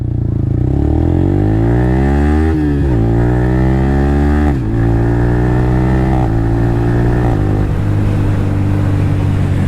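A Yamaha R15 M motorcycle fitted with an Akrapovič exhaust rides at speed, its engine loud and close, climbing through the revs in repeated rising sweeps broken by quick gear changes.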